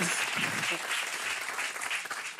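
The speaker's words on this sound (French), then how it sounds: "ils applaudissent beaucoup trop longtemps pour cette vanne méchante" A television studio audience applauds at length after a mean joke, a steady wash of many hands clapping that stays fairly even throughout, with no talk on top.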